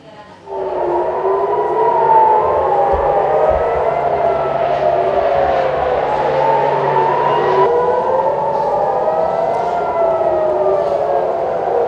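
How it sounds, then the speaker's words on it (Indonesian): Emergency air raid sirens wailing over Tel Aviv, Israel, after a missile attack, several loud rising and falling tones overlapping continuously and echoing across the city. "Sirine darurat terdengar di Tel Aviv, Israel pada Senin waktu setempat setelah serangan rudal baru Iran pada hari Minggu kemarin."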